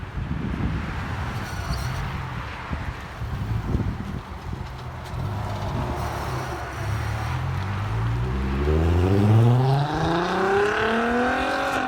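A 2003 VW Jetta GLI with a muffler delete pulls away under hard acceleration, its loud, raspy exhaust rising steadily in pitch through the gears, with wind buffeting the microphone.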